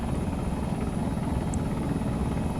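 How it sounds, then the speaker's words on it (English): A helicopter gunship in the video game Arma 3 makes a steady, loud rotor thrum with a dense low chop and a high engine whine, heard alone and close. "Come get on the helicopter"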